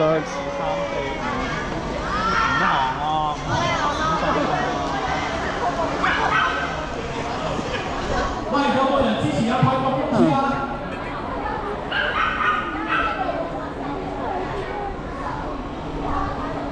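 Several dogs bark and yip in a busy crowded street in Macau, their calls overlapping with constant chatter from many people.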